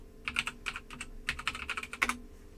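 Quick bursts of keystrokes clatter on an AZERTY computer keyboard, close and fairly soft, in uneven clusters with short pauses between.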